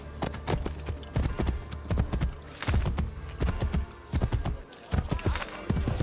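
Steady clip-clop of horse hooves in the video game Assassin's Creed Brotherhood, at a trotting rhythm, close and fairly loud, with brief pauses between bursts of hoofbeats.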